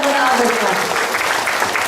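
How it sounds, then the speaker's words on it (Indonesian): A brief burst of audience clapping at a gathering of neighbourhood RT and RW heads in Gandrungmangu, Cilacap, dense and fairly loud, with talk blending in. "Oke, tepuk tangan ya, tepuk tangan"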